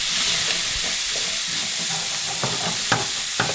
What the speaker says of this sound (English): now we have our minced shallots and we're going to put them in our pan